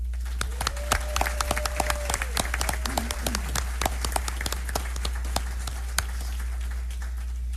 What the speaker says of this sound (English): Let's give a big round of applause for Lila, Stella, and Isabella.